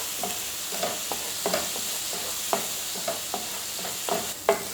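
Masala sautéing and being stirred in a pan for a coconut-milk prawn roast, a steady frying hiss broken by repeated scraping strokes of a spoon, close and moderately loud, with no talking.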